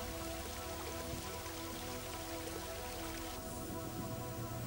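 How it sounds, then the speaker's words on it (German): Rain falling during a thaw on the Moselle river, a dense steady hiss of drops on surfaces, continuous and close, with a low hum underneath. "Dann setzte Tauwetter ein und es begann zu regnen."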